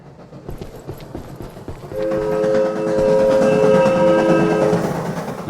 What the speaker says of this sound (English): Let's get a look at the train as it goes by.